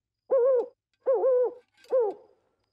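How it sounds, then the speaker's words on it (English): An owl hooting three times in a slow, even rhythm, each call close, clear and drawn out, with silence between the hoots. "The owl is making that hooting sound."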